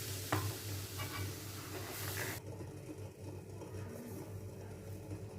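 A spoon stirs a soup mixture thickened with starch in a pan, making soft, close scraping and swishing sounds with a low sizzle, no talking.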